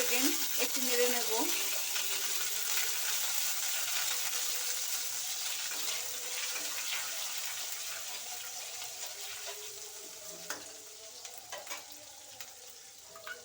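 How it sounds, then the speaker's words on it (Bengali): Ginger paste sizzling and frying in a pan while being stirred for Bengali parshe fish curry, a steady close hiss with occasional scraping stirs, fading slightly toward the end. "দিয়ে 20 থেকে 25 সেকেন্ড একটু নেড়ে নেব।"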